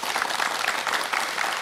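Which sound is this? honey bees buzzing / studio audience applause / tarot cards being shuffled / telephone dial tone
studio audience applause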